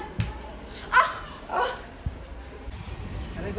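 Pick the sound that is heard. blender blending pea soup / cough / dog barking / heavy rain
dog barking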